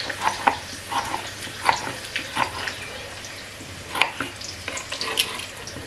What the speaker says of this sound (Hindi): तब तक ये हमारा प्याज इसमें ब्राउन हो रहा है।